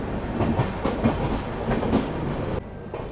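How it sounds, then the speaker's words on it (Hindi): Magh Mela special train shunting at Jhansi railway station, its wagons rolling past close by with a steady clickety-clack of wheels over rail joints before the noise drops away near the end. "और ये माघ मेला स्पेशल ट्रेन की शंटिंग चल रही है यहाँ पर"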